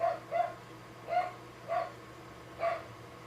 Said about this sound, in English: My dog's freaking out today.